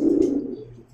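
Lahori cross pigeons at a pigeon farm give a single short, close coo, low and throaty, fading within a second, with no talk.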